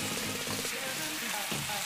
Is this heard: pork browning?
yes